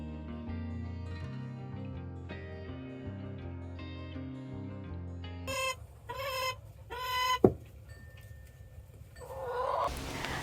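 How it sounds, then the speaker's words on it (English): Chickens on a farm cluck in a few short bursts with one sharp squawk, heard after a stretch of gentle music fades out, fairly close and with no talking. "I have 46 chickens."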